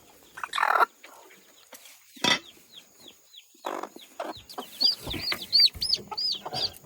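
A broody hen on a hidden nest clucks in short, sharp bursts with quiet gaps between them, close by and fairly soft, with some rustling and flapping among the calls.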